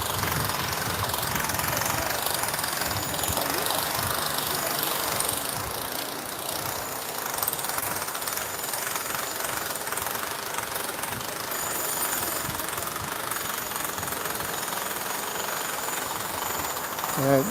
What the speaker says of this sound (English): Sorry about the noise, there's some construction work going on there.